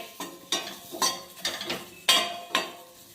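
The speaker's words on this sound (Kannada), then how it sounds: "ಹಸಿ ಮೆಣಸಿನ್ಕಾಯಿ ಒಳಗೆ ಇವು ಸೌತೆಕಾಯಿ ಸ್ವಲ್ಪ ಫ್ರೈ ಮಾಡ್ಕೊಳ್ಳೋಣ" Cucumber, green chillies and split lentils frying in a pan, heard as a series of about eight distinct metallic scrapes and clinks from the stirring spoon against the pan over a faint sizzle, with no voices.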